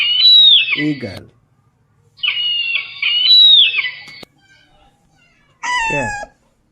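A cat meows three times with long, drawn-out calls and pauses between them, each loud, close and alone with no other sound.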